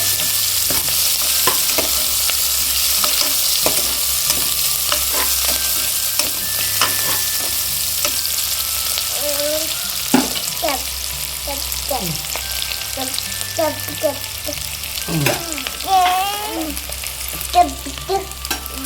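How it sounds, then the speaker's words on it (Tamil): Onions sauté in a pan for tomato rice with a constant loud sizzle and repeated spatula scrapes, growing busier toward the end. "வெங்காயம் கொஞ்சம் வதங்கிருச்சு."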